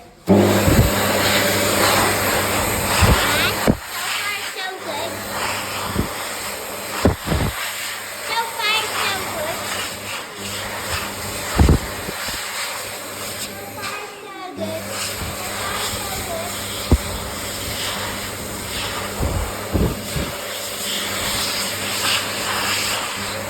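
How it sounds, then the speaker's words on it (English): An electric hand dryer in a changing room blows with a loud, continuous whoosh that stops and restarts, while a person talks nearby. "here we have an unknown hand dryer"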